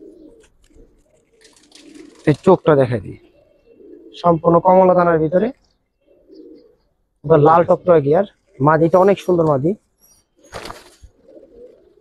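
Pigeons give soft, low coos in short, faint bursts between stretches of someone talking up close.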